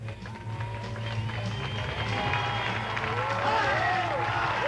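A crowd at the 1999 show ski nationals, a water ski show event, applauds and cheers from a distance over a steady hum of boat engine and outdoor noise, continuing for several seconds.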